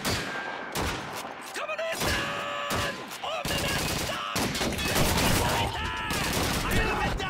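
Dense World War II gunfire in Call of Duty 2, on the Veteran-difficulty Pipeline mission: loud sustained bursts of rifle and machine-gun fire with heavy thuds, continuous throughout, with voices talking underneath.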